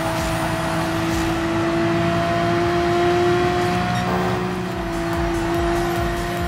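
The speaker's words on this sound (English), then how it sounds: "As we come round the final corner here to complete lap 6, Lookman's going to come in" In the PS4 racing game GT Sport, a race car engine drones loud and steady as it runs at high revs, with a pitch shift partway through as it rounds a corner; no speech.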